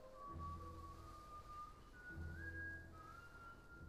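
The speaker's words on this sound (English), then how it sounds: "What was that? A whistle?" A thin, wavering whistle from an RPG Maker video game holds steady tones that slide up and down for several seconds, faint and alone with a low hum beneath.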